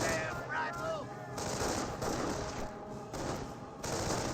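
German MG42 machine gun fire in a Company of Heroes battle, sustained and dense, mixed with other gunfire under a steady roar of game sound, with a voice talking faintly in the mix.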